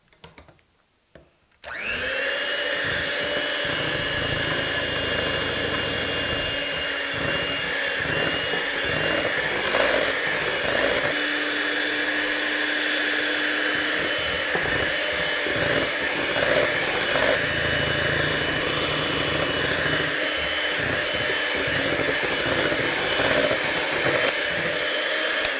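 An electric mixer whirs loudly and continuously, beating eggs one at a time into cake batter for caramel apple cream cheese cupcakes, starting abruptly after a brief quiet moment and running steadily with small shifts in pitch.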